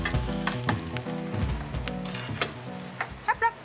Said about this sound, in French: Le temps pour notre chef de faire rapidement revenir les épinards à la poêle.